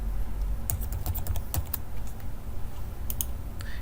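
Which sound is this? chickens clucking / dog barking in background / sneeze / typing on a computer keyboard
typing on a computer keyboard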